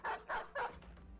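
Hounds in the video game Battle Brothers give three sharp, quick barks in a row, then a softer trailing yelp, all fairly faint and with no talk.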